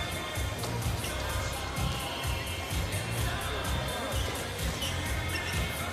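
A crowd at a Paralympic goalball match in Paris keeps up a steady, dense roar of cheering and chatter, with rhythmic bursts suggesting clapping, loud and continuous throughout.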